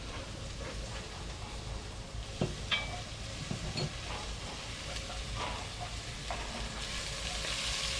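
Garlic, onions and potatoes fry in oil inside a cast iron Dutch oven on a camp stove, giving a steady close sizzle with occasional stirring scrapes and clinks.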